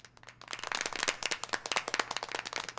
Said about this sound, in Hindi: चलो जिम के लिए जोरदार तालियां बजाओ